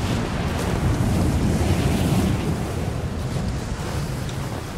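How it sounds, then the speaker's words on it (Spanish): A powerful wind roars across a mountain summit in the game Rise of the Tomb Raider. The gust is a dense, steady rush that swells slightly and then eases, with no voices over it. "¡Vaya ventarrón!"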